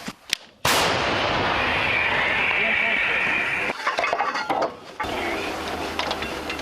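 A Ukrainian army howitzer fires with a sudden, deafening blast, followed by a long rolling roar and echoing rumble that fades into crackling background noise.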